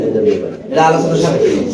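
Lahori pigeons in a fancy pigeon loft, a pair cooing softly and continuously at close range while a person talks over them.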